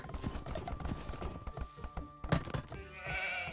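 Sheep bleating in the Age of Empires 2 game, brief calls amid busy clip-clopping game effects and other unit sounds, fairly loud and cluttered.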